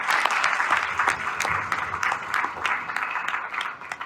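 Audience applause at an RCM gathering in Noida, a dense, steady wash of many hands clapping close and loud, welcoming a guest to the stage, with a few voices mixed in.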